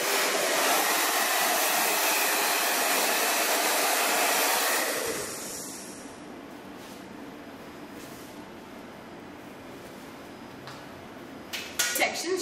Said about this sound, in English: Okay, so we're just going to dry the hair a little bit.